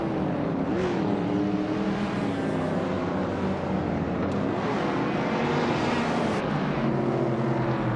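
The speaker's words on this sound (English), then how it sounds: "Globazia is driving a 1970 Ford Mustang Boss 429" A 1970 Ford Mustang Boss 429 races in a video game, its engine droning steadily and loud throughout alongside other cars, with pitch shifts as it revs.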